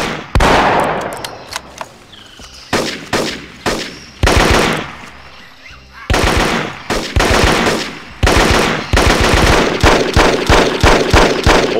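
Machine gun fire in the jungle warfare shooter Marine Sharpshooter II: repeated loud, close automatic bursts of varying length separated by short pauses, continuing through the whole stretch.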